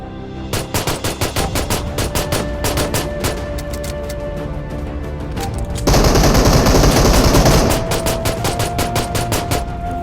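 Rapid gunfire from a pistol in PUBG, loud and close, with quick irregular bursts of sharp shots and a dense stretch of sustained firing midway, no talking.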